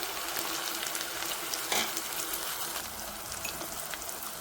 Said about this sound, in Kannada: ಸೊ ಗೈಸ್ ಆವಾಗ ರುಬ್ಬಿರೋದು ಮಸಾಲೆ ಹಾಕೋಣ.